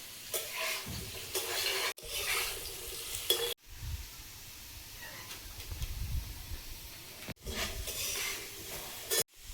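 Pointed gourd frying in a hot iron wok, sizzling and hissing in bursts as the pieces are stirred, with pauses and quieter stretches between the sizzles.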